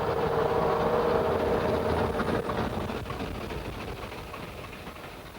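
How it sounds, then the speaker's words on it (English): A 1954 ex-Admiralty Planet-type diesel locomotive with a Gardner engine runs along the narrow-gauge Festiniog Railway, its engine drone and rolling wheels steady at first, then slowly fading as it moves away. "She is the line's most powerful diesel with a tremendous turn of speed."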